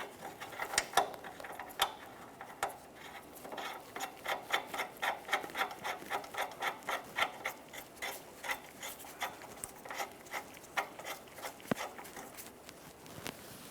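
A ratchet tightens the ball joint mounting bolt on a 2012-2015 Honda Civic front suspension. It gives a quick, even series of close clicks that runs steadily, with brief pauses between strokes.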